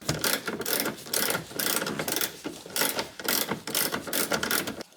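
Ratchet wrench loosening a 14 mm bolt during a harness bar install, a fast continuous clicking that runs in steady bursts with brief pauses, close and fairly loud, with no talking.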